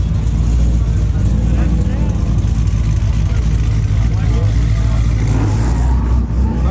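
A modified Toyota Supra engine growls and revs loud and close at a car meet, its deep rumble sustained throughout while someone talks over it.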